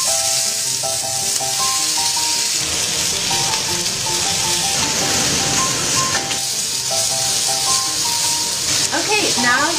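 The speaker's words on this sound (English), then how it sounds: "now we're going to add the tomatoes" Tomatoes hit a hot pan and sizzle in a steady, loud frying hiss, with stirring and clinks over light background music for nearly ten seconds.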